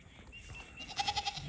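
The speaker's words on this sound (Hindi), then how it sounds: "मेरे जी भेड़ बकरियां दोस्तों हमारी वापस आ गई हैं।" A flock of sheep and goats bleats on a farm, with a rhythmic series of several close bleats in the second half over quieter background noise.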